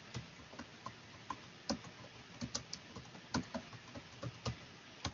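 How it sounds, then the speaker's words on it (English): Fingers type on a computer keyboard, a quiet, irregular run of close keystroke clicks with a few louder taps, with no voices over a soft room hiss. "I'm typing it"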